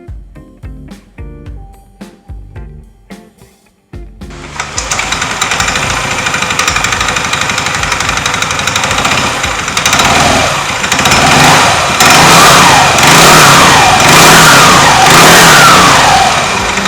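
A Yamaha Aerox 155 scooter fitted with a Daytona automatic clutch roars to life after a few sharp clicks, then revs loudly and steadily up close, the engine pitch swelling in repeated surges.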